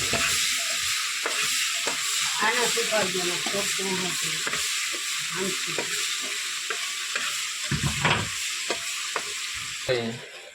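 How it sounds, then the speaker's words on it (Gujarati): Dal is tempered in hot oil with tomatoes and chillies. A steady, loud sizzle runs throughout while a spoon scrapes and stirs in repeated strokes close by. "દાળનો થઈ ગયો વઘાર"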